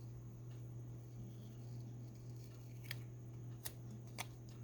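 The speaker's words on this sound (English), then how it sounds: "So I'm going to trim this into a frame here. I'm going to trim off the white is what I'm saying." Scissors snip through a cardboard coin collector holder, trimming off its white border to make a frame; a few sharp, brief cuts sound over a steady low hum.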